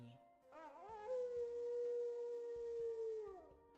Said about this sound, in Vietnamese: Đàn sói lần lượt ngừng tấn công, phủ phục xuống đất, cổ họng phát ra tiếng gầm gừ tỏ vẻ phục tùng